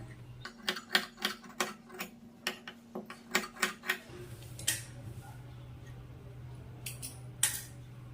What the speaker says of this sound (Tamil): இந்த ரவுண்டில் மட்டும் ஒரு குட்டியா ப்ரெஷர் கட் கொடுத்துக்குங்க